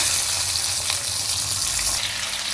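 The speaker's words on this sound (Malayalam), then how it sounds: "അപ്പോൾ നമ്മൾ ഓയിൽ ചൂടായതിന് ശേഷം ചിക്കൻ ഇട്ട് കൊടുക്കാം." Chicken pieces for biryani go into hot oil, and a loud, dense sizzle fills the whole stretch, steady and close with no voices over it.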